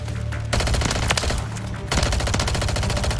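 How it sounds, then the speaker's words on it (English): Dense automatic gunfire from a Modern Warfare 3 match, loud and continuous with rapid overlapping bursts and volleys, no voices over it. "A lot of these guys are just shooting at each other because they're EMP'd."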